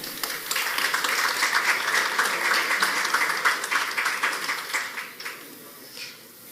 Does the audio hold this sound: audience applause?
yes